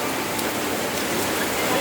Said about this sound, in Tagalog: Grabe ulan guys.